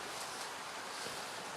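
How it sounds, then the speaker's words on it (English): Steady broadband outdoor wash of rain falling with a creek trickling below, constant and even for the short stretch, with no talking. "And there's a creek trickling beneath us."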